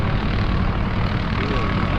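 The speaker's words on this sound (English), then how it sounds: "There's a helicopter in the air behind me." A helicopter flies overhead above a nighttime car meet, a loud, steady broadband rotor and engine roar filling the air, with voices faintly underneath.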